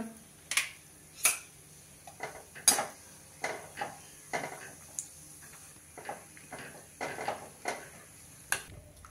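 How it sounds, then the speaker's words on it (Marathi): Coconut slices roast to a pink tint in a pan for roasted poha chiwda, with a spatula tapping and scraping the metal in irregular clinks over a faint low sizzle, and no talking. "आता हे खोबऱ्याचे काप तळून घेऊया गुलाबी रंगावर"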